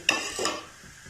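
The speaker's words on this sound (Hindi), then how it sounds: "तो ये सारी चीजें हम कुकिंग ऑयल में डाल देंगे।" Curry leaves and cumin seeds hitting hot cooking oil, two quick bursts of crackling sizzle in close succession that fade within about half a second.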